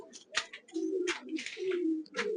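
Several pet pigeons in a loft give a series of deep, drawn-out rolling coos at close range, separated by brief rustling bursts.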